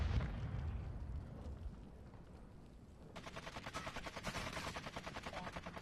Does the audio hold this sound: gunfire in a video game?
yes